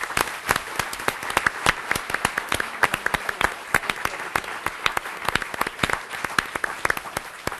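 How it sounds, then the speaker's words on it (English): Audience applause for staff at a talk on women as governors, with sharp individual claps standing out clearly over a softer crowd patter, lively and fairly close, lasting several seconds. "stand up or raise your hand and wave at everybody and take your applause"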